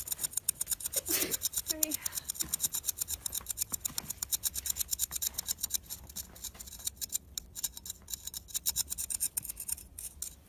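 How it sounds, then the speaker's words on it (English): Green crayon coloring a paper creeper, a rapid rhythmic scratching of wax strokes on paper, close and faint, with brief voices early on. "So Savannah's coloring her creeper orange, or sorry, green, with a green crayon."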